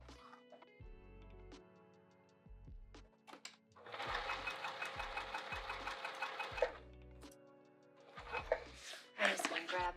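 Sewing machine stitching around the edge of a fabric cover, running in bursts of fast rhythmic needle chatter between pauses, with quiet clicks and handling noises in the gaps.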